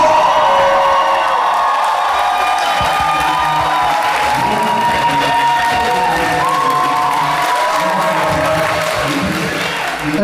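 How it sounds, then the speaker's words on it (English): A convention panel audience at a comic con bursts into sustained loud cheering, whoops and applause for a TV show cast, a dense crowd roar with shouts rising over it throughout. "Let's give them a big round of applause."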